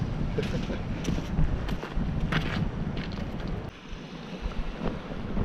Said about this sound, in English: The wind coming round the corner, the bivvy is actually quite strong.